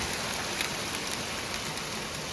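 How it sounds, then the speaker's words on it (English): Hail from Storm Eunice pelts a neighbouring roof in the UK, a loud, continuous dense patter with sharper individual hits scattered through it. "That's actually like hail."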